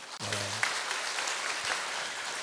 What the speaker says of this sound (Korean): 우리 박수 한번 격려해 주시고요